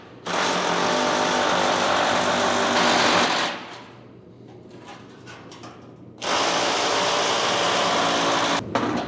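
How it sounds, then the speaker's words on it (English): A loud, continuous impact-drill whine runs for several seconds, stops briefly with quieter handling noise, then starts again just as loudly. "It says to use this only with an impact drill"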